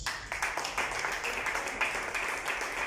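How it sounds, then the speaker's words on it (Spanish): A church congregation applauds steadily for about three seconds, a dense wash of many hands clapping at moderate loudness with a faint murmur of voices underneath. "Denle un aplauso a Dios."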